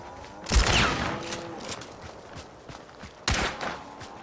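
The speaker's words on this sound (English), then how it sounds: "It was a good nade. A good dynamite." Video game dynamite grenade explosions: two sharp, loud booming blasts, the first near the start with a rumbling tail that fades out, the second arriving a few seconds later, over faint background game noise.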